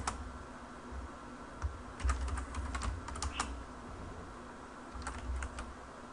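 Arduino code is typed on a computer keyboard in quick, irregular bursts of close key clicks with short pauses, quiet overall and with no speech.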